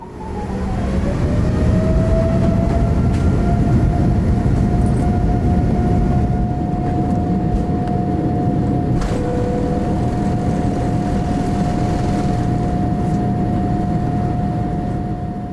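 Heard from inside the cabin, an Etihad Boeing 787 Dreamliner takes off from Abu Dhabi with a loud, steady engine roar and rumble, a sustained whine running through it, no voices.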